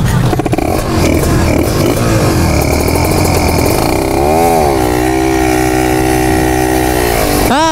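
A motorcycle engine sputters and struggles to catch, then settles into a rough, loud idle before a sharp rev at the end.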